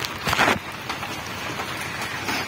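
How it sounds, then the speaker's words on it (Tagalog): Rain falling outdoors on a construction site during work on stairs, a steady diffuse hiss of drops with a slightly louder burst near the start, no speech over it. "Nakapondo yung ulan pero umuulan na."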